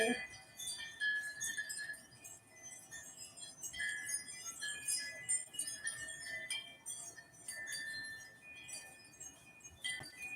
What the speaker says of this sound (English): Can you all hear the wind chimes?